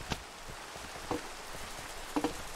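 Rain falling in the Minecraft video game, a soft steady hiss of drops with a few brief tapping clicks standing out, quiet and continuous with no talk.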